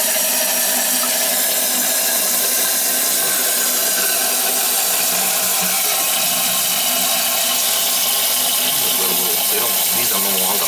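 An old Kohler toilet tank refilling through its fill valve, a steady loud rush and hiss of water close by that barely changes from start to finish.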